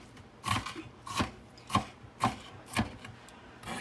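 A knife chops an onion on a cutting board in six evenly spaced, crisp strikes about half a second apart, close and distinct against a quiet background.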